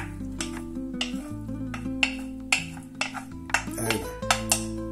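Fried potatoes being added to a pan while making huevos a la flamenca, with repeated clinks and scrapes of a utensil against a metal pan, close and fairly loud, alongside a faint sizzle and a steady hum.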